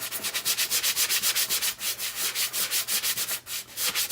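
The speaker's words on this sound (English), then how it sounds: "do some sanding" Sandpaper rubbed back and forth on a wooden pine block to distress its white paint, fast regular rasping strokes, close and loud, with no talking.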